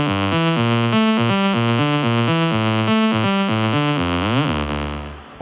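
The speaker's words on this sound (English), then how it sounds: "it was kind of just like a saw wave idea" A bright synth saw-wave lead melody played on a keyboard for a song hook, stepping through a simple sustained pattern of buzzy notes, then bending into a sliding pitch sweep before fading out.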